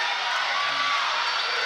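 Crowd noise at a women's netball grand final, a steady broad roar of cheering spectators filling an indoor arena, fairly distant and sustained throughout.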